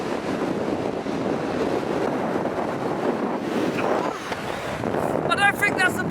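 Strong wind gusts buffet the microphone on Conic Hill above Loch Lomond, a loud, steady roar with rumbling low end that persists throughout, briefly easing before surging again near the end.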